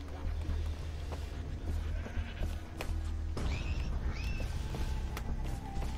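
A goat bleats in the Far Cry 3 video game, two short wavering bleats rising over steady game ambience and low background rumble.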